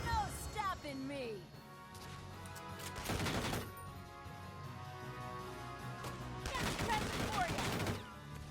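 Gunfire bursts ring out in the tactical war game Valkyria Chronicles 4, two loud dense volleys a few seconds apart over quieter game sound, with someone talking at the start.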